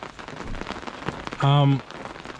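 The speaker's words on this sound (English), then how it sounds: "It just started pouring over here." Rain pours down at a lakeside campsite near a motorhome on the Mogollon Rim, a steady broadband hiss of drops striking surfaces, briefly overlaid by a short tonal hum midway.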